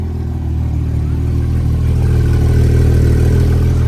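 A Porsche 993 exhaust rumbles loudly and builds slightly as the engine revs, a deep sustained growl with no talking.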